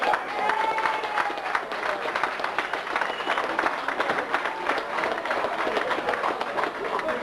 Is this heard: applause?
yes